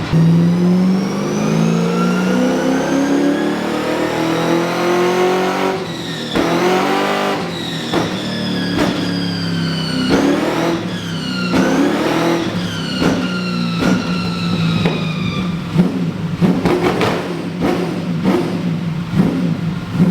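A car engine revs hard again and again, loud and aggressive, its pitch sweeping up and down with sharp bursts and pops between throttle blips.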